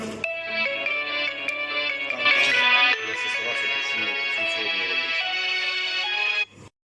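Mobile phone ringtone playing loudly in a home kitchen: a bright, continuous electronic melody with layered tones that fills the moment and then stops abruptly at the end.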